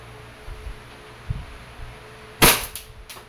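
A DB Airsoft 1911 MEU gas pistol fires a single sharp, loud shot at close range after a few quiet seconds of faint handling thumps, with brief ringing echoes trailing off.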